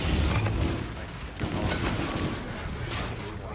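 Rapid gunfire from a powerful video game gun in a team deathmatch shooter, dense booming bursts sustained over several seconds alongside explosive crashes, loud and close.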